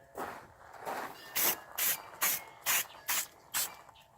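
Spray paint going on a Jeep Wrangler YJ differential in light coats, a series of short, crisp hissing bursts close by, about seven quick sprays in a steady rhythm after a couple of softer ones.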